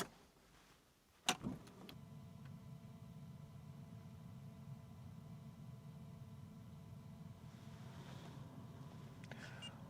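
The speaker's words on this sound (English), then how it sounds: "I'm going to turn the ignition on" Ignition switched on in a Jaguar XK8 gives a sharp click. A low electrical hum with a faint steady whine follows, quiet and continuous in a still cabin.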